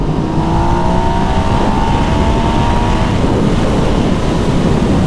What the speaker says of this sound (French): je vais accélérer, je vais me mettre en 3 pour avoir du couple de ouf